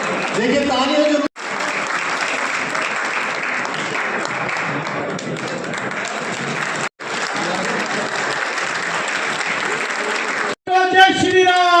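Sustained audience applause at a political welcome event in Ladwa, dense and loud, running the full length with two brief cuts and a few shouted voices near the end.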